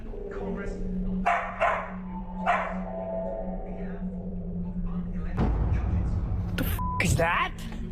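A dog barks indoors in a house where a TV is on, with several short barks spaced over a steady background hum. People talk around them.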